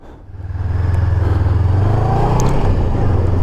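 A Honda CB500F motorcycle pulls away, its engine rising from idle into a steady, throbbing drone with a loud pulsing exhaust note close by, no talk.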